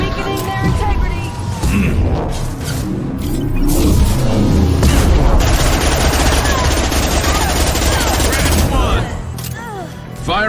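Heavy gunfire in Mass Effect 2 Legendary Edition, with a dense volley of loud shots and booming impacts rolling over about nine seconds, driven by a high-impact round, before a brief easing at the end.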